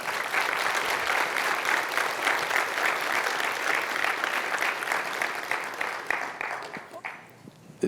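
Veterans standing at a school district service academy night receive steady, full applause from the audience, lasting several seconds before it tapers off.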